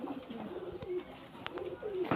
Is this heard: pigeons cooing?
yes